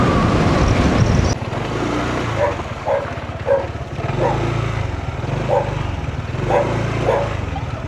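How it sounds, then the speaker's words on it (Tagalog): Dogs bark in a string of repeated, fairly close yelps as a motorbike rolls in, its engine loud at first and then dropping to a lower rumble beneath the barking. "Ramdam na ng mga aso yung andar ng motor ko."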